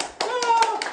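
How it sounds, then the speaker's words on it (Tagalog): A few quick hand claps ring out close by, overlapping a voice. "Palakpak mga audience."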